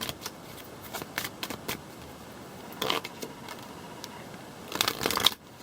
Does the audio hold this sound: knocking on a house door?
no